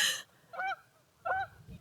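Geese honk nearby: a loud first call, then two separate nasal honks spaced apart, each short and clear against quiet surroundings.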